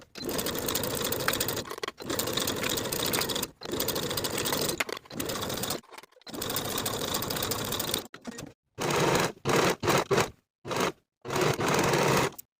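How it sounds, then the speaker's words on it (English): A sewing machine stitches the sleeve seams of a linen button-front shirt, running in loud, steady bursts of several seconds that later break into shorter, choppier runs with brief pauses between them. "Sew both of these seams with a 1/2 inch seam allowance"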